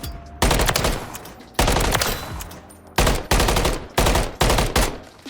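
Submachine gun with an XRK Edge BW handstop underbarrel firing in Call of Duty MW3, sounding as a series of loud, close full-auto bursts of varying length, with short pauses between them and no talking.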